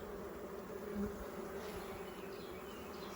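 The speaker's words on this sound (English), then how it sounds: "because there's so many bees there" Many bees buzz in a dense, continuous hum, close up and fairly quiet, with a few individual drones rising above the swarm.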